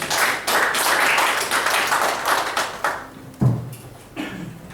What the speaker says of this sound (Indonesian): Tepuk tangan dulu buat prudensial.